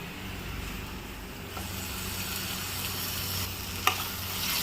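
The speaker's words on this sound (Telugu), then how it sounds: "టమాటా ముక్కల్ని కూడా ఒకసారి కలుపుకోవాలి" Eggplant and tomato pieces stirred in a pan, a low steady sizzle with a faint spoon scrape and one sharp clink near the end.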